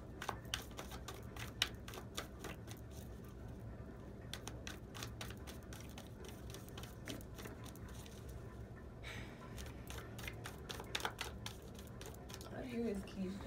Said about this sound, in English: Let's shuffle this deck for you.